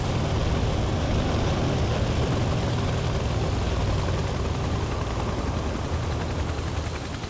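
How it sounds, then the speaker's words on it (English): A battered, smoking Soviet Mi-8 twin-turbine helicopter gives off a steady, dense roar of turbine and rotor noise, loud and unbroken throughout with no voices. "A smoking, flame-belching, banged-up-looking Soviet Mi-8 twin-turbine chopper"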